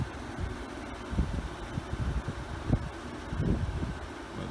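Gusty wind ahead of a thunderstorm in Brazil, Indiana, a steady broad rush with low buffeting thumps against the microphone, fairly loud and close, no voices.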